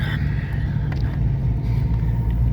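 A car pulls away during a rescue operation, its engine giving a loud, steady, close low rumble throughout with no talking.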